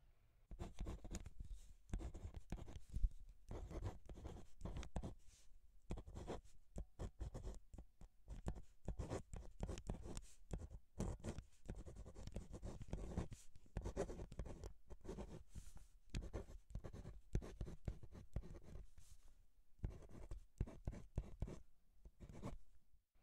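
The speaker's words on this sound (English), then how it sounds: "I'll draw it up." Pen strokes scratching on paper while a coordinate geometry graph is drawn, heard very close and intimate: steady, continuous scribbling in short strokes with brief pauses throughout, and no talking.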